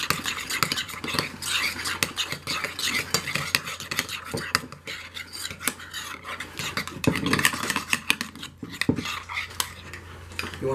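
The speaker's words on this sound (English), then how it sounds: "So, we're going to mix this up" A burger meat mixture being stirred with a splash of olive oil in a bowl, with steady close scraping and clinking of a utensil, fairly loud and continuous, with no talk.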